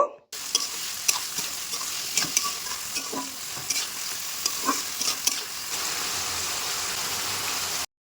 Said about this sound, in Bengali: সেই টুকরো করা পেঁয়াজগুলোকে এবার আমরা তেলের মধ্যে দিয়ে দেব। পেঁয়াজ দেওয়ার পর খুব ভালোভাবে নাড়াচাড়া করে নেব।